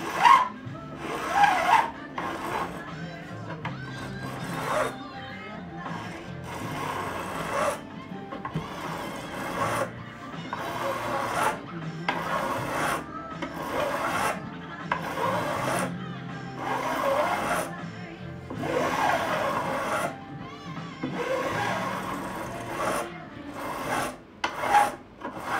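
A metal file rasps back and forth across guitar frets during a refret and levelling job, steady repeated strokes close up, with occasional speech between passes.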